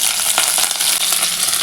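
Curry leaves hit hot oil already holding popped mustard seeds, fenugreek and dried red chillies for idli sambar, giving a loud, close, continuous hissing sizzle with faint crackles and no voices.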